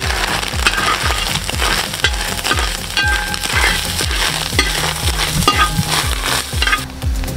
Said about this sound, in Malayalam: ഒരു തേങ്ങ ഫുള്ള് ചിരണ്ടിയതുണ്ട്. അത് നമുക്ക് വറുത്തെടുക്കണം.